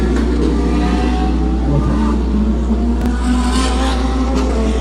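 GT race cars accelerate away together on the Las Americas circuit in Guyana as the race gets underway, a steady roar of mid-pitched engines revving continuously at close range with no talk.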